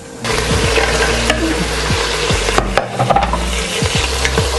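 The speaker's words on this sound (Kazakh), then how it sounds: "Пиязбен тағы да қуырамыз." Meat fries steadily with onions in a hot pan for goulash, giving a loud, continuous sizzle with stirring scrapes throughout and no talking.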